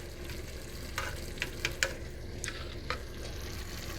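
A spoon stirs two spoonfuls of butter into biryani in a pot, giving soft scraping clinks and a few sharper taps over a faint steady sizzle, close and quiet.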